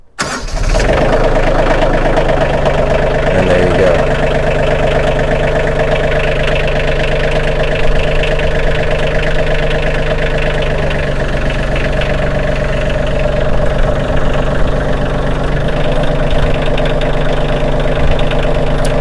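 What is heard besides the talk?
tractor engine starting and idling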